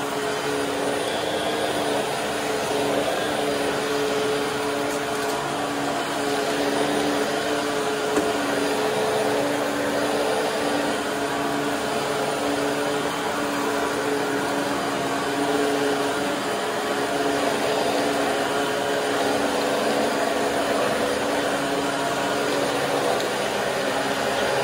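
A Bissell Pethair Eraser swivel vacuum cleaner runs steadily on a bare floor, its motor a loud, constant whirring drone with a fixed pitch that holds without a break.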